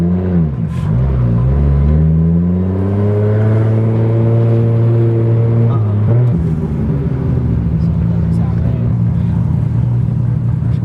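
An 800-horsepower Toyota Supra at a car meet, its engine droning loud and close with a steady rise and fall in pitch as it revs and settles at a steady idle.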